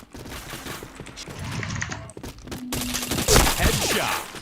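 Rapid bursts of video game gunfire crackle over busy layered effects during a chain of headshots, loud and dense with a sharper volley near the end.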